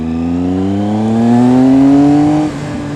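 A motorcycle engine accelerating hard, one loud close rising rev that climbs steadily for about two seconds and then drops off abruptly as the throttle closes; no talk.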